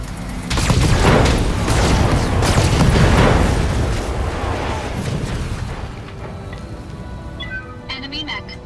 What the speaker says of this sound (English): Enemy mech destroyed. Good shot.